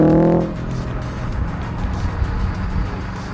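A turbocharged bug-eye Subaru WRX with a catted 3-inch straight-through dump exhaust drives past, giving a loud, steady engine and exhaust roar that starts with a brief stronger burst and then settles into a continuous rumble.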